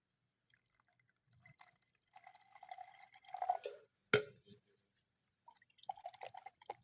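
Small amounts of water are poured and dripped into a thick fiber cement finish mix, giving soft intermittent trickles and drips with one sharp splash in the middle, close and quiet against near silence.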